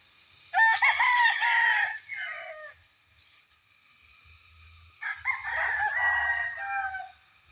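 Roosters crow loudly nearby, two long drawn-out calls separated by a pause, with faint low clucking from other fowl in between.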